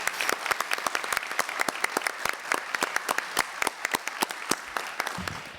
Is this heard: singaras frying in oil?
no